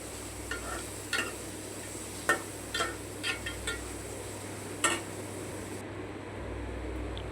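Small and large onions sauté in a pan for Chettinad chicken curry, with a steady sizzle under a handful of sharp stirring scrapes spaced a second or so apart, close by and without talk.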